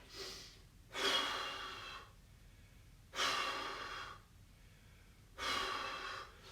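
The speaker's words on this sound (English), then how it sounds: "you're then going to do 3 forceful out breaths" Three forceful out-breaths during a floor stretching workout, each a loud, close rush of air lasting about a second, evenly spaced with quiet pauses between them.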